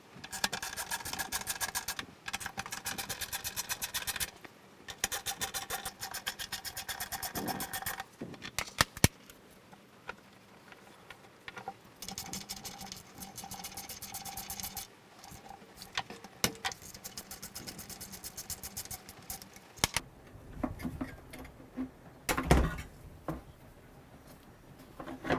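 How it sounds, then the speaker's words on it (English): Bolts being worked loose and a cover taken off a lawn mower that vibrates after striking a post, heard as close, intermittent scraping, rasping and metallic tool clicks with quieter pauses between bursts. "I'm going to remove all of these bolts on the top."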